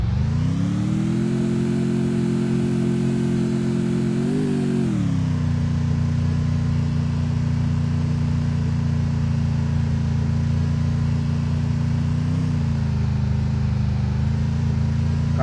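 Kawasaki Ninja motorbike engine in the Free Fire video game, a steady loud drone that revs up and then drops back to a constant hum, with no talking.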